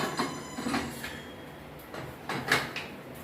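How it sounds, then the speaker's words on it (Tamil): A pressure cooker lid is placed and shut while mutton intestine curry cooks, giving a few short, close metallic clanks and scrapes with no talking. "நான் இப்போ மூடி போட்டு மூடுறேன்"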